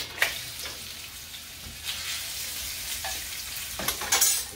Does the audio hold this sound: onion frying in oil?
yes